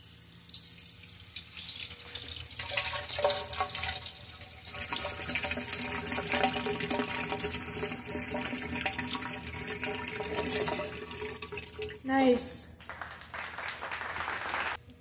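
Water runs through a tube during a homemade test, a continuous hissing, splashing flow that holds steady for several seconds before a sharp clunk near the end.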